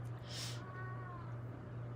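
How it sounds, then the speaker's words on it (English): A house cat in another room gives a faint, drawn-out, distressed meow lasting about a second, heard at a distance over a low steady hum. "Even the cat in the other room is starting to, like, I don't know, making sounds of distress"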